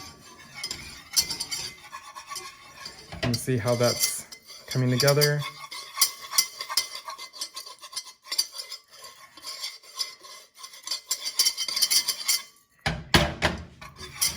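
Flour being stirred into melted butter in a pan to make a roux, giving repeated scraping and clinking of a utensil against cookware, fairly close, with brief speech partway through.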